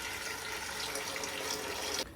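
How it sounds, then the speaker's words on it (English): Boiled water pours steadily into a container, about four cups measured for a tamarind drink, a continuous close splashing stream that cuts off abruptly near the end. "I'm putting our boiled water already"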